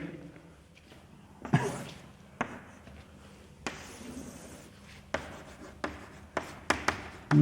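Chalk or marker scratches and taps on a board during a biology lecture, coming in short, irregular strokes that are close and moderately loud, with a teacher speaking at times.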